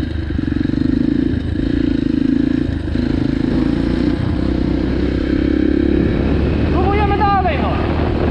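Motorcycle engine, two-stroke or four-stroke, droning steadily and loudly close by during a ride, with a brief rise near the end.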